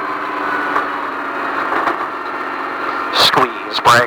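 A Speed Vegas Baja off-road vehicle holds a steady, loud engine drone under throttle. An instructor's voice talks over it through a radio, and the drone is broken near the end by sharp, bursting surges.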